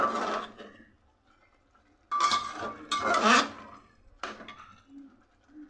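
A utensil scrapes and clinks against a pan while pumpkin greens curry is being stirred, arriving in a few separate bursts with quiet gaps between them.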